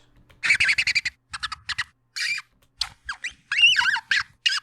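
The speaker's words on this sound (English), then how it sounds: "These are just some bottle cap squeaks that I recorded." Squeaks from a bottle cap, recorded as raw material for a dragon vocal sound design: a string of short, high, chirpy bursts in uneven clusters, close and dry with silence between them.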